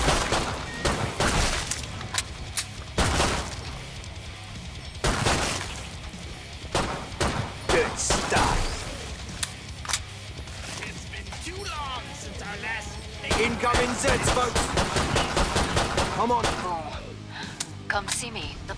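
Gunfire in Killing Floor 2 from a Commando fighting alone, with dense repeated shots and shattering impacts that keep going through the whole stretch over music and game noise, while voices talk over the top.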